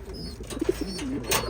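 Young racing pigeons coo softly at close range, a few short low rounded calls rising over a quiet background, with faint rustling between them.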